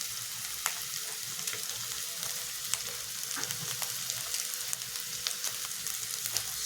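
Spice masala sizzling in hot oil in a pan for a Bengali omelette onion curry, a dense, continuous crackling hiss with occasional sharper pops, close and steady throughout.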